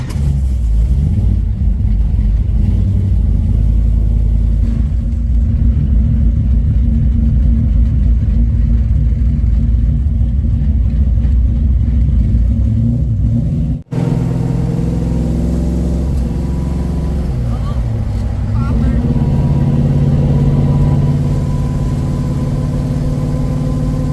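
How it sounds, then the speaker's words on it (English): A 1968 Dodge Charger with an aftermarket block and Paxton supercharger runs loud and close, a heavy steady engine drone with a thin whine riding on top, briefly cutting out midway before resuming with rising revs. "if you hear that whine, that is a Paxton supercharger on it"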